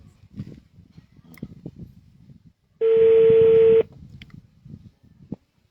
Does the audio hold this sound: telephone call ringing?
yes